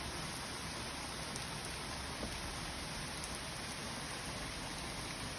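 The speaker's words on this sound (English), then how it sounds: "Look at this rain." Steady rain falling in a British garden after a dry spell, an even, soft hiss of drops throughout with no voices.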